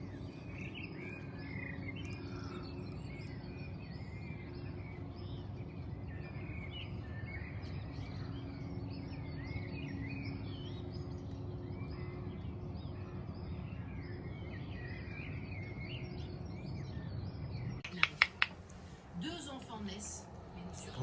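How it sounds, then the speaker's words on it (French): Morning birds chirping and singing outdoors at a distance, faint scattered calls over a steady insect-like hum, with a couple of sharp clicks near the end. "Je vais vous faire écouter les oiseaux du matin."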